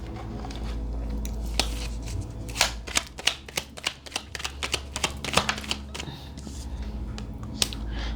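Tarot cards are shuffled and pulled close by, giving a run of crisp riffling flicks and sharp paper snaps over a steady low background hum.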